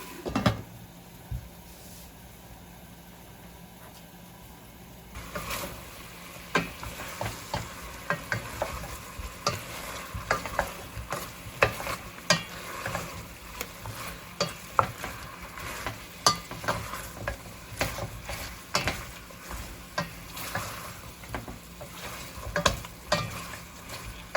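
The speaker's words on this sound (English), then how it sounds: "So this is frying up very nicely." Oxtail frying in a pan, a soft steady sizzle broken by frequent scraping and stirring clatters from a utensil.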